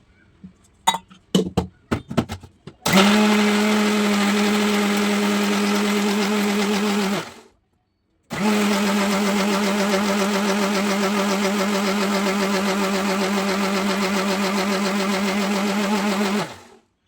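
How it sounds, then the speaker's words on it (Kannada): A mixer grinder's steady motor whir runs for several seconds, stops briefly, then runs again, after a few clinks at the start; loud and close, no talking. "ಇವಾಗ ಮಿಕ್ಸಿ ಮಾಡ್ಕೋಬೇಕು"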